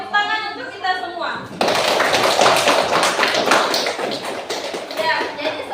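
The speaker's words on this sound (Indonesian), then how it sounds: "tepuk tangan untuk kita semua" After a short stretch of talk, a dense, loud burst of applause breaks out from a classroom group of students and teacher, sustained for several seconds with a voice rising near the end.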